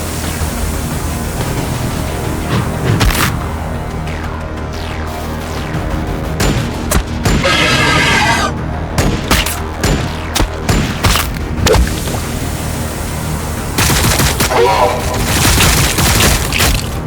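Battle gunfire and heavy booms from the video game Warhammer 40K Battlesector, with dense bursts of shots and explosions over a steady combat din, occasional loud impacts, and voices speaking.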